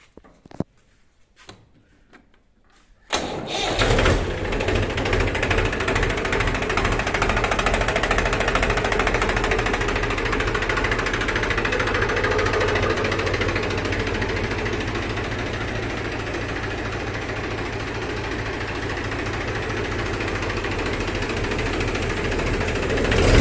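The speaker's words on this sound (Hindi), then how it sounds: "मैं ट्रैक्टर की स्टार्टिंग दिखवा रहा हूँ आवाज़ सुनवाऊँगा" After a few clicks, a 2009 Mahindra 265 DI tractor's 2048 cc diesel engine cranks and catches, then settles into a loud, steady idle with a rhythmic knocking chug.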